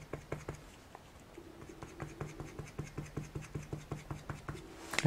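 Ink is dabbed onto paper for stamp art with quick, light taps. The pats come close in a fairly regular rhythm, with brief scratchy rubs between them and no speech.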